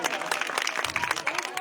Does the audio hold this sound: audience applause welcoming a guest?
yes